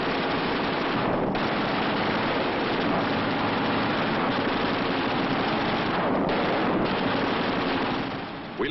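Machine gun fire in an aerial battle from a war film, a dense continuous roar of rapid bursts that stays loud and unbroken from start to finish with no voices over it.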